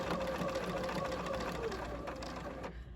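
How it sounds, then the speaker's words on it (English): A sewing machine runs continuously with a fast mechanical whir and knock as it stitches right beside the binding on a knit garment's armhole or neckline, then slows and stops near the end. "we're running our stitching right beside the binding"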